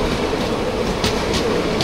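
Kanchanjunga Express train (Sealdah–Silchar) passing close by, a steady broadband rumble of rolling wagons with faint rhythmic wheel clatter over a brief stretch, no voices.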